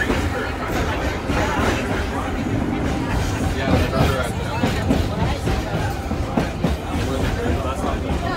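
Steady rumble of a moving Edmonton streetcar on the High Level Bridge, with rattling and clacking over the rails while passengers chatter and talk nearby.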